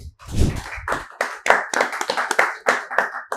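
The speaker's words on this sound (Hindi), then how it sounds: "तो चलिए एक बार इनके लिए भी जोरदार ताली" A crowd claps in a burst of rapid, uneven hand claps that gradually settle into scattered, rhythmic claps.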